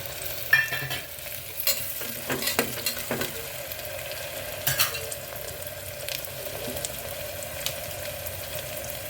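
A tomato is fried and stirred in a pan at home, with quiet sizzling under scattered scraping and clinking of a spoon against the pan, fairly soft and close, no talking.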